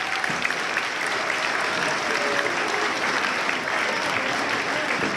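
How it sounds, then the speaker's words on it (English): Applause from an audience at a school MLK concert, steady dense clapping filling the room throughout, with faint voices underneath. "Can we please give another round of applause for our string teachers?"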